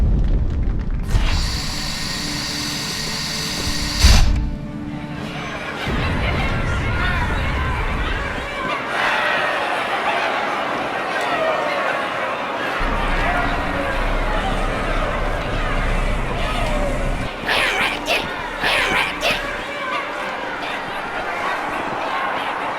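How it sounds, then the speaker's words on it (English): Crowd chattering in a Halo 2 cutscene, a dense steady babble of many voices with booming rumbles and swells of noise, occasional louder bursts cutting through. "Drawn quite a crowd."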